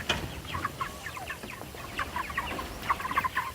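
Young chicks cluck and peep in a scattered, chattering chorus while their eggs are turned, close by and fairly busy throughout, with no talking.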